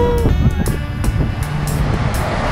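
Gusty wind buffets the microphone in loud rumbling bursts at the Hamburg, Germany waterfront, with faint higher tones drifting through.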